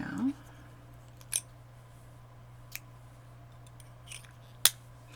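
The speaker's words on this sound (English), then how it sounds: "And I can cut this now." Scissors snip yarn in a few sharp, separate cuts spaced over several seconds, close and quiet against a faint steady hum.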